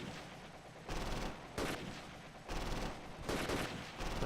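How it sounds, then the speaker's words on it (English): Machine gun fire in the Close Combat wartime strategy game, several bursts of dense rattling shots of about half a second to a second each, fairly faint and slightly distant. "machine gun firing"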